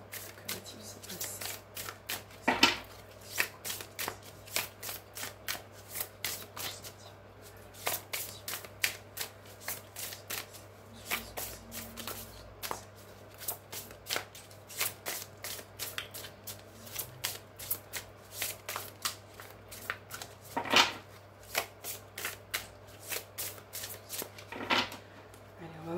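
Tarot cards shuffled by hand at close range, a long run of soft, rapid flicks and riffles in irregular bursts, with a low steady hum underneath.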